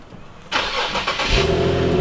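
A car engine, freshly cleaned with an aerosol degreaser, cranks and fires after a quiet moment, then settles into a steady close idle with a faint high whine.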